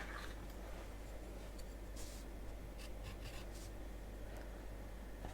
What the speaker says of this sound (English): So let's just write in 5 here.